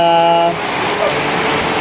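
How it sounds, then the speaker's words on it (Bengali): Rain falls as a steady close hiss and patter, while a short tonal sound fades out at the start. "কি বৃষ্টি"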